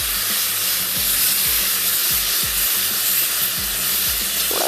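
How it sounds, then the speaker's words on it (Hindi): Chicken samosa filling frying in a pan with roasted ground cumin and black pepper powder over lowering heat, a steady loud sizzle and hiss with low clanks and scrapes of stirring throughout. "थोड़ा सा इसको भूनेंगे"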